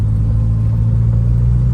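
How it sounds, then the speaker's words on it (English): A Morris Minor's exhaust gives a steady low rumbling rasp while driving along, heard from inside the car, continuous and fairly loud with no talk. "just that lovely rasp from the Morris Minor exhaust"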